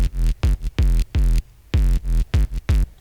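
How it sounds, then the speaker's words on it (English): Gritty filler bass synth, playing short punchy low notes in a choppy rhythm of about eight hits with gaps between, loud and isolated. "So I need a filler bass to fill this part of the track, and it sounds like this."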